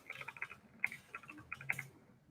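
Quick, light keystrokes tapped out on a computer keyboard in short irregular bursts, faint and close, with no voices.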